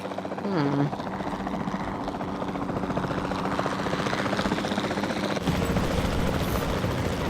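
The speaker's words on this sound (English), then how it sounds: "Then the sensible thing is to take a capture team helicopter." Steady rotor thrum of a capture team helicopter in flight in Jurassic World Evolution 2, a continuous loud drone throughout with a brief tonal blip near the start.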